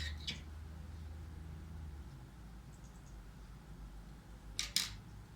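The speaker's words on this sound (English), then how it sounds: "snip off the yarn." Scissors snip crochet yarn in a quiet room, a couple of brief, crisp cuts, one at the start and a sharper double snip near the end.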